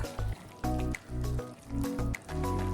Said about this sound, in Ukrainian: Ретельно, ретельно вимішуємо.